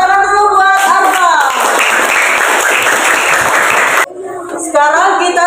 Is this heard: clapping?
yes